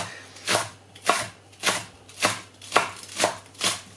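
A knife finely chopping spring onion on a board, about eight evenly spaced crisp chops close up, steady rhythm with no talking.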